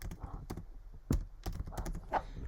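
A computer keyboard is tapped in a quiet room, with a handful of soft, irregular keystrokes spaced across a couple of seconds, close and faint.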